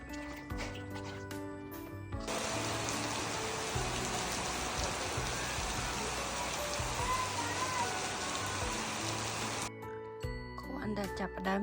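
Steady rain falls for most of the clip as a dense, even hiss. It starts abruptly after a couple of seconds and cuts off near the end, with quieter background sound on either side.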